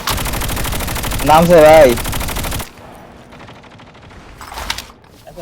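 Loud bursts of automatic gunfire in a multiplayer shooter video game, with a sustained volley early on and then a quieter stretch with a short later burst, while players talk over it.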